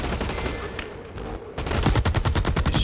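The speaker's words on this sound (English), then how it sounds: "He's shooting at something." Gunfire in the shooter game Blacklight Retribution: steady mixed firing, then from the midpoint a louder close burst of rapid automatic shots in a quick even rhythm.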